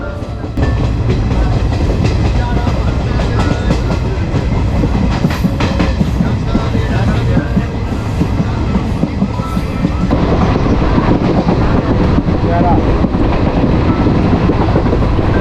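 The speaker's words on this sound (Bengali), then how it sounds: "আমাদের ট্রেনটি পলাশী স্টেশন ছেড়ে এগিয়ে চলল।" A passenger train pulls away from Palashi station, its steady rumble and rhythmic clickety-clack of wheels over rail joints loud and continuous from inside the carriage, with no talk.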